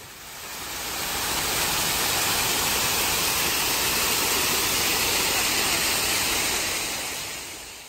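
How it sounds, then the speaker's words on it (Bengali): Steady broadband rush of a waterfall pouring down from the hill at Batu Caves, constant and close, fading in and out gently with no voices. "এই হচ্ছে ঝর্ণাটা, পাহাড়ের উপর থেকে আসছে"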